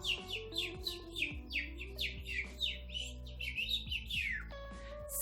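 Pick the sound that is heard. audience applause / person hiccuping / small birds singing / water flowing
small birds singing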